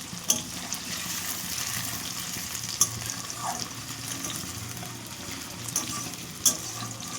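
Panch phoron spices fry in a pan for a dish of puimichuri, giving a steady, soft crackling sizzle throughout with a few sharper pops, close and fairly quiet, no voices.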